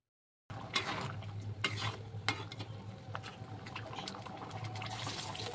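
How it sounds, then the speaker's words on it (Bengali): A spoon stirs spices into dal cooking in a pan, with soft repeated scraping and clinking over a steady low sizzle of hot oil nearby. The sound is close and fairly quiet, and no one speaks. "দেখো মশলাটা দিয়েও আমি ভালোভাবে নাড়াচাড়া করে নিচ্ছি।"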